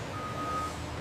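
A truck backing into a loading bay at an ostrich-leather factory sounds a steady, clear reversing beep tone over low site rumble.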